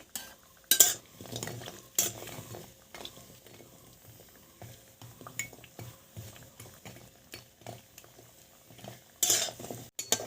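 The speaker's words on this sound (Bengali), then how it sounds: "কয়েকটা বড়ি দিয়ে ভেজে দেবো" Bori lentil dumplings frying in hot mustard oil, a steady low sizzle broken by a few sharp clinks and scrapes of a spatula against the pan.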